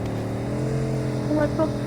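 A car engine drives fast in PUBG Mobile, a steady revving hum with rising harmonics and short bursts of acceleration near the end, while players talk over it.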